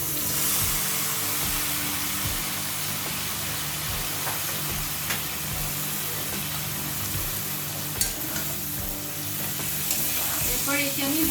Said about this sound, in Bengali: মশলা কষানোর এ পর্যায়ে আমি কেটে রাখা লতিগুলো দিয়ে দিচ্ছি।